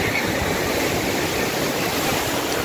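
Ocean waves break at Pernambuco beach in Guarujá, heard from someone standing in the water. A steady, loud, close wash of surf fills the whole stretch, with no talking.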